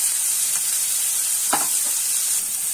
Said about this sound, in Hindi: ये प्याज थोड़ा सा हम लाल होने देंगे।